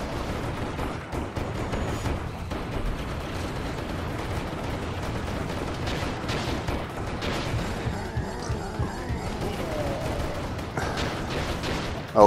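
Rapid, continuous gunfire and blasts from the Serious Sam VR shooter game, a dense barrage of overlapping shots and booms running steadily without pause, with only faint traces of talk.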